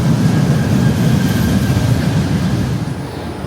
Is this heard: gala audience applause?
no